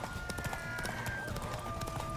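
A horse gallops in the video game The Witcher 3, its hooves drumming in a quick, steady clip-clop rhythm, close and continuous, with a faint tonal whine from the game's audio running beneath.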